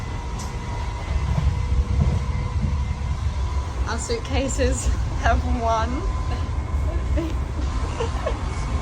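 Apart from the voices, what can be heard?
passenger train riding to Como, Italy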